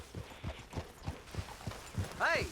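Horse hooves clip-clopping in Red Dead Redemption, a steady walking rhythm of about ten hoof beats at moderate volume, ending with a short whinny-like sound.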